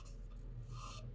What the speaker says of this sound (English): sanding quite nicely